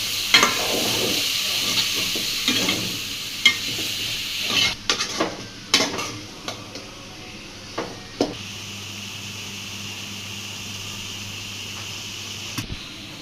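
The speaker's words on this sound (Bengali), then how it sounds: "এখন কলা শাক আর করল একসাথে দিয়ে দিচ্ছে" Banana greens and bamboo shoots frying in a pan, cooked with prawns: a constant, close sizzle with a cluster of clattering stirring knocks early on, then a smooth, steady hiss.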